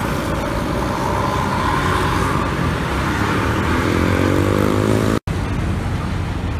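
A Hino RM bus passes loudly at close range near a toll exit, its engine drone rising with a clear whine and harmonic sweep, then cut off abruptly near the end before the road noise resumes.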